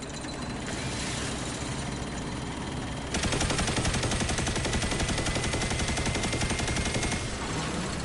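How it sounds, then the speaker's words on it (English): Rapid automatic gunfire from a 900 RPM weapon in Destiny 2 erupts partway through as a loud, dense, unbroken stream of shots, preceded by quieter in-game background noise. "just show you guys what 900 RPMs looks like with this gun"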